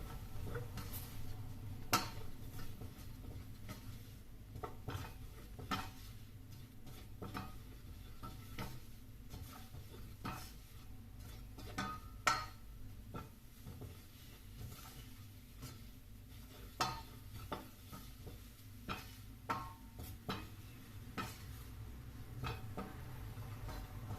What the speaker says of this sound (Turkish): Un da kokusunu çıkarana kadar şimdi kavuruyorum.